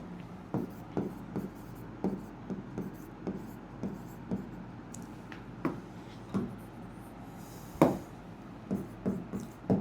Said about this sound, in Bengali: ঠিক আছে, লিখে দিচ্ছি।